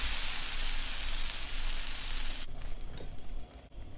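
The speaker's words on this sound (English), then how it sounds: "add a ladle full of your batter onto the hot griddle" Dosa batter poured onto a hot griddle gives a loud, steady hiss of sizzling that drops off sharply partway through, leaving a quieter crackle.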